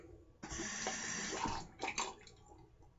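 A splash of water hits a bowl of shaving soap lather during a vintage Williams shave, a short close wet pour and squishing, then a brief second splash, quiet and without talk.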